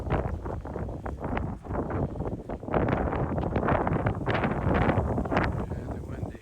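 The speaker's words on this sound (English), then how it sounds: "Really windy." Strong wind gusting through Prospect Park in Brooklyn, roaring and buffeting the microphone in a steady loud rush that swells and surges, with faint rustling and no clear speech.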